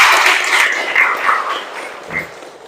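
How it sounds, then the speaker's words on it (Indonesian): A brief burst of applause from a group in an Indonesian classroom during an academic supervision session, loud and close at first, then fading within a few seconds. "Luar biasa. Tepuk tangan buat kita semua."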